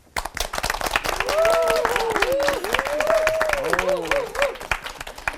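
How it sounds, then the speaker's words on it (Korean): A church lecture audience gives warm applause for a pastor. Dense, steady clapping fills the hall while a voice sings or speaks faintly underneath. "열렬한 박수 감사합니다."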